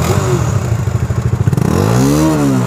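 Dual-exhaust motorcycle engine idling with a steady, loud low rumble and pulsing exhaust throbs, then a rising rev toward the end.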